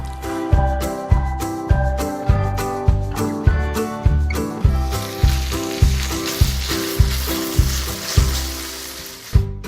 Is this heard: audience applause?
no